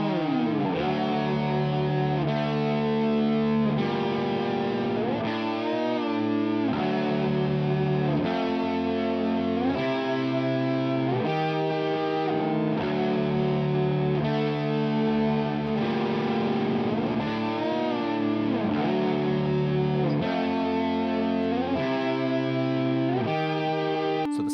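A distorted electric guitar plays a slow, heavy riff in dissonant harmonized intervals, with chunky repeating chord blocks and sliding note changes, loud and continuous for the full length.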